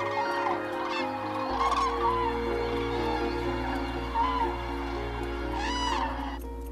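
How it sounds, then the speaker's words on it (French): Common cranes migrating south in France, a flock giving repeated bugling, trumpeting calls over a steady low drone and a hum, with calls rising and falling throughout. "Comme des centaines de milliers d'autres oiseaux, les grues cendrées descendent vers le sud."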